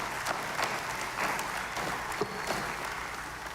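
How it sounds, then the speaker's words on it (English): Steady crowd applause for awardees, including Long Service Medal recipients, at a National Day Parade ceremony; continuous, fairly loud clapping over a low background hum, holding evenly throughout with no speech. "And a final round of applause to all of our awardees this evening."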